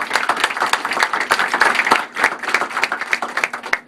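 Crowd applause at a 2011 campaign kickoff event, steady dense clapping from many hands sustained across the whole span at a fairly loud, close level.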